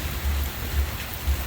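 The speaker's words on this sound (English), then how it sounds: "it is definitely raining" Rain falls in Puerto Vallarta, a steady close hiss of drops on surfaces with a few low thumps underneath, brief and continuous, with no talking.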